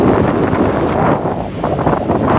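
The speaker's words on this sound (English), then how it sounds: "this morning, behind me, the waves are very strong" Strong ocean waves surge at the shore of Jamestown, a fishing village in Accra, Ghana, a loud, continuous roar of surf mixed with heavy wind buffeting the microphone, rising and dipping slightly, with no voices.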